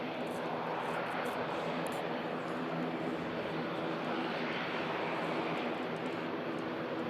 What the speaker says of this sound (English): Transat 3:30 about to touch down